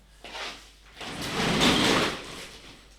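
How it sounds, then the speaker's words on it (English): A room door is pushed shut indoors: a brief creak or slide near the start, then a longer scraping sweep and a soft closing thud, close and moderately loud, with no talking. "One second, I'm going to close my door."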